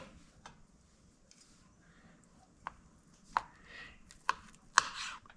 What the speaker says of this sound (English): First, I want to slice each one.